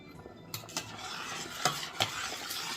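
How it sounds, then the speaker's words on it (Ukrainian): A spoon stirs homemade meat dumplings in a pot of boiling water, with a low bubbling wash and a few distinct clinks and scrapes against the pot, fairly quiet throughout. "час від часу пельмені помішуємо"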